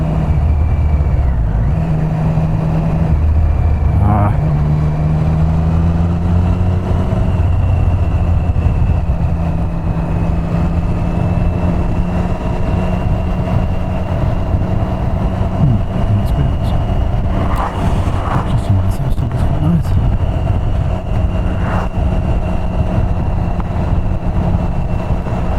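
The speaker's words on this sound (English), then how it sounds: "Tried to go with as low engine revs as possible in a higher gear as possible" A car engine droning at low revs in a high gear on a mountain road, a steady low hum with slowly shifting pitch that persists throughout, close and fairly loud, with occasional faint sounds over it.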